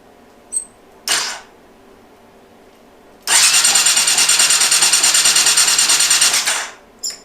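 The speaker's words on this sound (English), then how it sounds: "It didn't seem like it wanted to crank, so I just pushed the starter button a little harder." A Suzuki Bandit 1200 motorcycle gives a couple of short clicks and a brief crank, then the starter grinds in a loud, fast pulsing run for about three seconds before cutting off.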